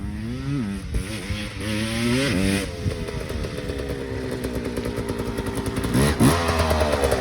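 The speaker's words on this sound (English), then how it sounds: "Changed the carb, just making sure it's running fine." Dirt bike engine running after a carburetor change, close and loud, revving up and down in several rising pulls before settling into a steady, even idle, then one more sharp blip near the end; no talk.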